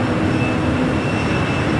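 A jet airplane on the runway at Los Angeles LAX airport produces a loud, steady, unbroken roar that fills the whole moment without any speech.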